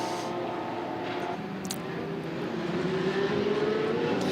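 Several Audi GT3 race cars at the Dubai 24 Hours roar past one after another, a steady loud engine drone with rising pitch as they accelerate and pass, close and continuous with no talk.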